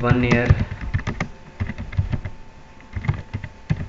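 Typing on a computer keyboard while writing a resume in Microsoft Word 2013, a close run of quick key clicks in an uneven rhythm, with a voice talking faintly in places.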